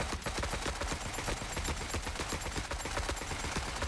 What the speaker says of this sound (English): Frickin' turrets.